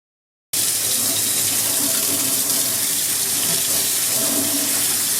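Running tap water splashes steadily over parts of a Xiaomi Jimmy JV65 cordless vacuum cleaner as they are rinsed one by one in a sink, a continuous close gush that starts abruptly and lasts throughout with no talking.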